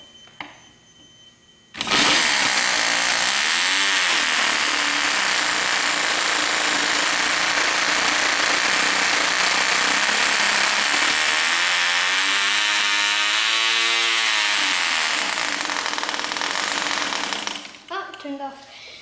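A vintage Cox .020 model glow engine bursts into life and runs loud and steady with a high, buzzing whine that wavers in pitch, then cuts off abruptly near the end.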